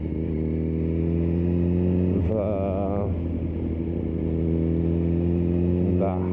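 2004 Yamaha R1 motorcycle engine heard up close with a steady harmonic drone and short rising revs, running under a rider's talk.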